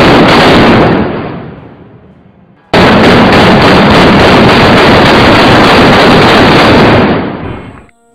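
Cannon fire from a broadside of HMS Victory, a historic warship at Portsmouth Historic Dockyard, with two massive roaring blasts close by. The first fades over a second or two and the second holds loud for several seconds before cutting off.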